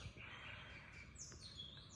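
Faint bird chirps and short tweets sound from a distance in the early morning in Thailand, scattered over quiet outdoor background noise.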